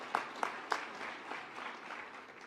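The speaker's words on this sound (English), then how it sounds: "Can I ask you to give them your applause?" An audience at a teacher of the year gala applauds; the clapping sounds moderately distant, opening with a few sharp, distinct claps before settling into softer, fading applause.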